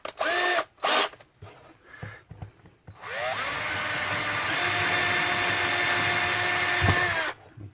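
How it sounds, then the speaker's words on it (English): A power drill bores holes through a fan mount for a retro computer rebuild, a few short whirring bursts first, then one steady high-pitched whine that runs for several seconds and stops abruptly. "So drill through there and there."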